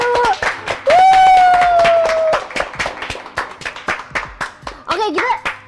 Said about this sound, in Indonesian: Bisa tepuk tangan ya semua yuk